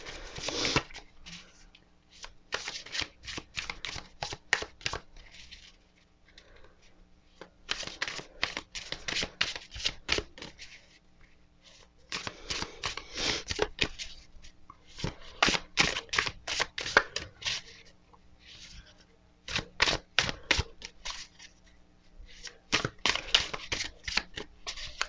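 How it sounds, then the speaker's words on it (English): Tarot cards are shuffled by hand in repeated bursts of crisp riffling and flicking, close and fairly quiet, with short pauses between rounds and no talking. "let's get to shuffling"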